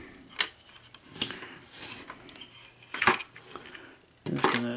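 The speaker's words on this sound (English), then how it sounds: "Just gonna tighten the top screws here." Small screws being tightened with a screwdriver on a Sony SL-HF400 cassette deck during repair, giving a few sharp metallic clinks and scrapes spread across the moment, close up with no talking.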